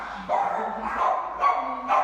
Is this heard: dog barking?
yes